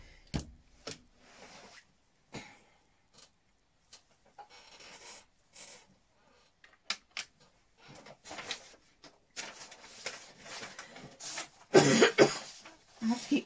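Several short, sharp coughs from a man at a drawing desk, scattered unevenly and mostly fairly quiet, with a louder burst of coughing near the end.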